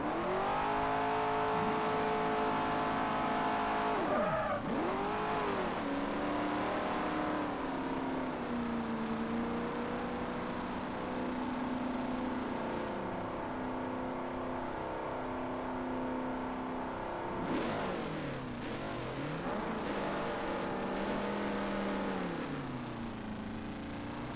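A GoPro-liveried Camaro drift car in a virtual drifting game revs hard and steadily throughout, its engine note climbing and dipping through repeated throttle swings with a whirring, sustained drone and no talking.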